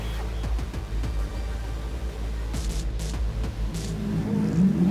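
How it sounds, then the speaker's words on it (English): Ferrari FXX race cars accelerate on a track, a loud engine roar with rapid rising revs and gear shifts, one car climbing in pitch after another. "one of the draws of the cars from Ferrari is the beautiful sound they make"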